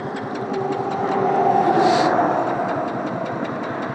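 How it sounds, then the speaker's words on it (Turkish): A single-cylinder RKS Sniper Pro Cup motorcycle, stopped on the roadside, runs with a steady close engine drone that swells briefly in the middle. "Şimdi bir marş basacağım."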